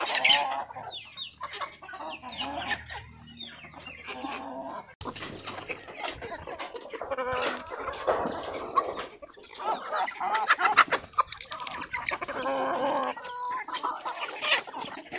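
Mixed-breed poultry in a flock of about 350 birds on a farm in Mlomp cluck and call continuously, several birds overlapping near and farther off, with a brief gap partway through and no speech.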